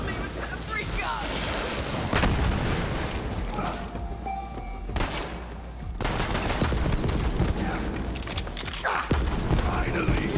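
Gunfire and explosions in the video game Borderlands 3, a dense, continuous barrage of shots and booms under game music, with a player talking over part of it.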